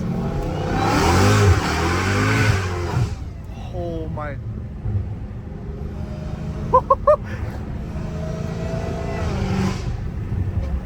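A Dodge Hellcat Redeye roars loudly as it revs, then drops to a rising mechanical whine with short bursts of throttle, and a voice speaks briefly over it.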